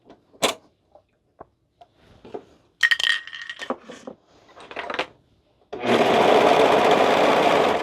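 A sewing machine runs a continuous, loud stitching burst along a cardigan seam after a series of small clicks and knocks from handling the fabric and machine.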